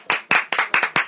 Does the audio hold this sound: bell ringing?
no